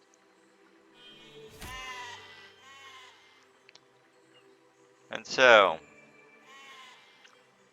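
Sheep in the video game Besiege bleat several times, a few medium bleats followed by one loud, harsh bleat, with someone talking briefly over the game sound.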